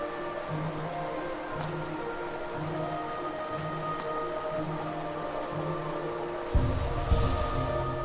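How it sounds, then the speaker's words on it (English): Steady rain pattering in an underground cavern in the Hollow Knight video game, a soft continuous wash of drops heard alone under droning ambient music, swelling louder and closer near the end. "Then I hear... what is that? Is that rain?"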